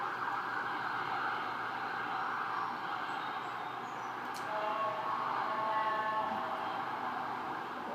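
Emergency vehicle sirens sound at a distance after a car accident, a steady wailing tone that rises slightly in the middle and holds above a constant background hum, with no talking.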